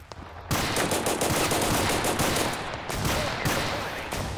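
Rapid bursts of shotgun fire from a video game battle, loud and dense from the half-second mark onward, rolling into near-continuous volleys with brief dips between shots.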